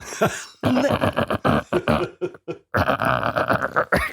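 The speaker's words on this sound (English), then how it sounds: "Let me clear my throat." A man produces a series of exaggerated, rapid throat-clearing and gravelly vocal bursts up close, choppy and loud with short gaps, sounding partly like coughs and burps.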